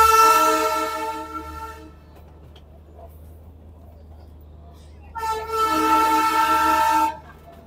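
Darjeeling toy train passing Batasia Loop near Kurseong, its horn blaring loud and close in two long harmonic blasts separated by a few seconds of low rumbling running noise.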